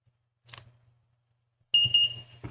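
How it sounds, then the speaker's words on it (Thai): A small buzzer on a microcontroller board, triggered by a button press: a soft click, then a quiet pause and a single bright electronic beep that lasts a moment before fading into a faint click. "พอเรากด ปุ่มกดแล้วเนี่ยเขาจะปิ๊บ แล้วก็ปี๊บ แล้วก็ปี๊บยาวอีกทีหนึ่ง"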